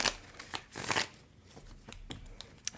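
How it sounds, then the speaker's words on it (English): Quick riffle shuffles of tarot cards, close and soft, with a cluster of crisp flutters followed by lighter, scattered card taps. "I've already pre-shuffled, but I'll give them a couple"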